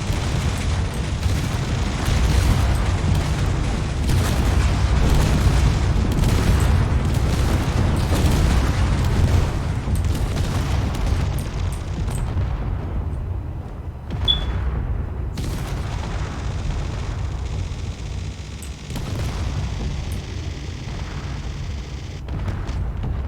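Missile strikes slamming into a base in the video game Space Engineers, a sustained roar of overlapping booms and blasts that thins out toward the end.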